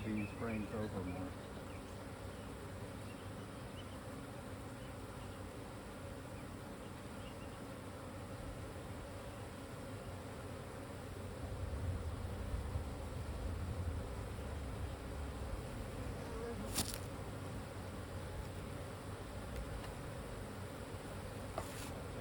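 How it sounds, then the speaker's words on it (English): Honeybees buzz around an open hive during an inspection as frames are shifted, a steady close droning hum with occasional brief knocks and handling sounds, no clear talk. "Not wanting to squish any bees."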